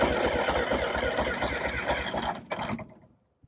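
A Detroit Diesel 6V92 two-stroke engine in an MC9 coach, with suspected leaking injectors or stuck rings, cranks and sputters roughly as it tries to catch, running unevenly before dying away into near silence.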